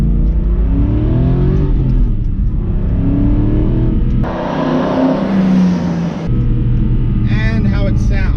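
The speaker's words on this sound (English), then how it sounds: "It's got a naturally aspirated V8, which is a recipe for things that sound good." Naturally aspirated V8 of an Aston Martin Vantage revs loudly and steadily, its deep rumble swelling and falling across several blips with a brighter, harder burst partway through.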